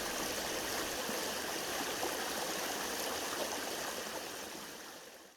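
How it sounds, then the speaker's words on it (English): Water flows in the Arroyo Seco creek along the Dripping Springs Trail, a steady close rushing babble that holds evenly and fades out near the end, with no voices. "I've never been here with water in this creek, the Arroyo Seco."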